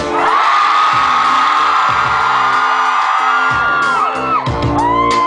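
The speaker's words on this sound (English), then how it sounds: "I want to hear everybody scream on the count of three." A large concert crowd screams and whoops in one sustained, loud roar that rises at a performer's prompt and then breaks into scattered shouts and cheers.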